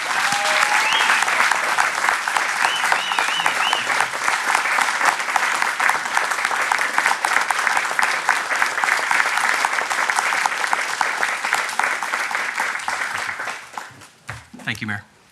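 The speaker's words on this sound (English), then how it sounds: "If I may ask for a round of applause for the newly promoted officers." A room full of people at a city council meeting applaud loudly and steadily for about fourteen seconds for newly promoted police officers before the clapping thins out and stops.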